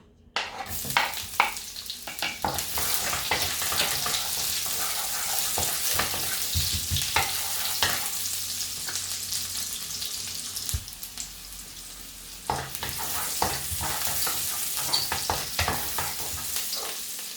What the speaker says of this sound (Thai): แล้วก็เอาออกมา ผัดเลยนะเพื่อน